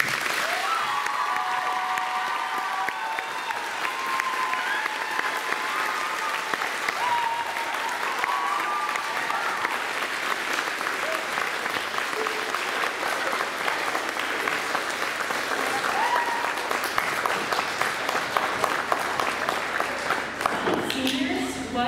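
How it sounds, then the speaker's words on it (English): A large audience claps after a high school concert choir performance. The applause is dense and sustained, running steadily for the whole stretch and heard from within the crowd. "Please give them a round of applause."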